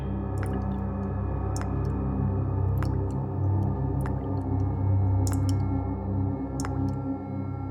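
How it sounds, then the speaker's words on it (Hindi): Water drips from an old pipeline, a slow, regular series of sharp single drops about a second apart over a steady low background hum. "कुछ टपकने की आवाज आ रही है ना?"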